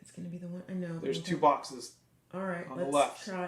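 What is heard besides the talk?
No everyday noise stands out behind the speech.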